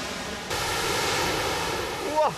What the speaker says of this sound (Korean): 시판돈 여정의 최종 목적지 콤파스의 폭포입니다.